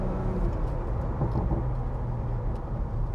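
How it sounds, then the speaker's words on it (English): A 340hp Morgan Plus 6 in sport mode with its exhaust valve open, a deep, steady engine and exhaust rumble heard close and loud, with no talking. "Now there's also a valve opened in the exhaust to give me a little bit more,"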